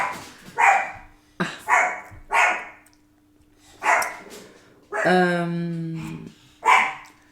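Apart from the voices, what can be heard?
dog barking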